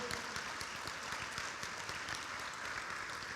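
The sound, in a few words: audience applause at induction ceremony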